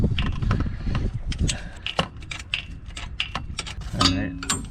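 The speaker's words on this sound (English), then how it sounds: "that should be enough to be able to use the ratcheting side of the wrench" A ratcheting wrench clicks in short bursts while working on the starter bolt of a Jeep JK with a Pentastar engine, the close mechanical ticking coming in uneven spurts with handling noise between them.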